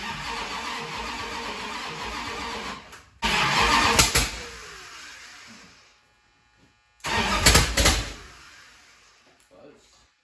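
A 1970 Plymouth Road Runner V8 cranks and fires in two separate attempts, each a sudden loud burst of engine noise that fades and drops out, with people talking near the car.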